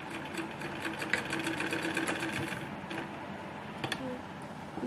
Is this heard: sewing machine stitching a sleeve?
yes